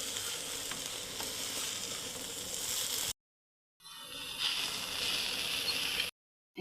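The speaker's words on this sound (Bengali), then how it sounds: "এটা কিন্তু সুন্দর করে ভাজতে থাকতে লাগে" Moringa leaves sizzle and crackle steadily in a hot pan while being stirred, a close, continuous frying hiss broken by two short silent gaps.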